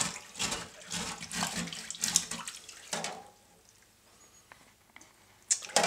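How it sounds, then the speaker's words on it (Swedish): Water drains and splashes in a kitchen sink while fish are being scaled, a gurgling, sloshing rush that fades into sparse drips and small clinks near the end. "kan vi se att vi släpper ut vattnet"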